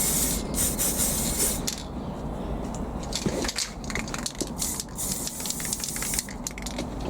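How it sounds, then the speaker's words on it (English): Continuous hissing spray from an aerosol paint can, fairly close, with brief pauses and bursts of louder spraying, no voices, while painting a washing machine. "It's good because you can spray in any direction from this"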